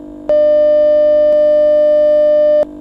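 An Emergency Alert System attention tone sounds for an earthquake warning at Yellowstone National Park, one loud steady electronic tone held for over two seconds and then cut off sharply.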